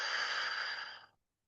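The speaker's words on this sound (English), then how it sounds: "and exhaling through your mouth" A person exhales through the mouth during guided breathing, a single long, breathy close rush of air lasting about a second and fading to silence.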